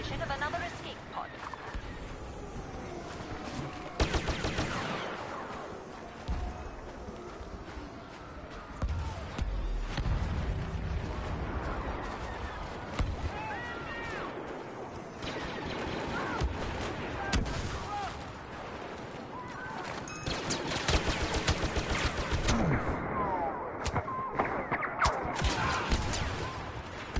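Gunfire in a PS4 shooter game, scattered shots and bursts, some distant from across the map, mixed with game dialogue and a player talking over a busy, continuous battle backdrop.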